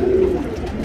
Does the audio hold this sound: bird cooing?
yes